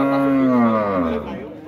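A dairy cow at a cattle market in Dois Riachos, Alagoas, lets out one long, loud, close moo that falls slowly in pitch, with faint market chatter behind it.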